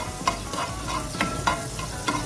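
Chopped green chillies sizzle in two tablespoons of hot oil for spring rolls, a steady close frying hiss broken by a few sharp stirring clicks, with no voices.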